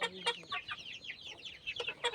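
Chickens and young chicks cluck and cheep on an aseel poultry farm, including yellow and bingam birds, a busy run of short overlapping calls close by with no talking.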